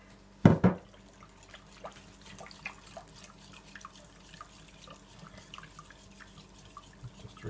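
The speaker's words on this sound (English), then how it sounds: "Just give it a good mix. It's all stirred up." Sourdough leaven is mixed with water in a bowl: one sharp knock at the start, then a run of soft, wet clicks and squelches from steady stirring, close and fairly quiet.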